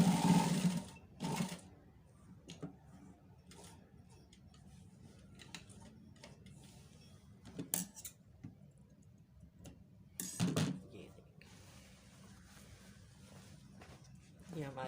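Sewing machine stitching a high neck collar on fabric, a soft steady ticking and whirring run under close talking, with a few louder clunks as the cloth is handled.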